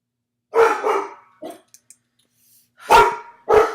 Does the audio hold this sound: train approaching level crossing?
no